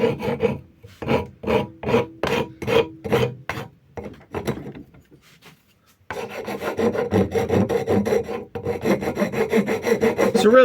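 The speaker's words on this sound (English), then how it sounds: "I'm going to go ahead and hit this with a rasp and get these corners rounded off" A rasp works the corners of a wooden axe handle in a series of close, rhythmic rough scraping strokes, then gives way after a short pause to a longer stretch of continuous rasping.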